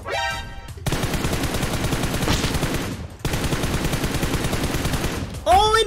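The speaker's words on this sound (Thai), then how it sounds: "ยิงกันแล้ว ยิงกันแล้ว น่าจะยิงบอสอยู่แน่เลยนะครับ" Dense bursts of rapid automatic gunfire in PUBG Mobile, loud and close, in two long stretches separated by brief pauses, with short tonal game sounds at the start and end.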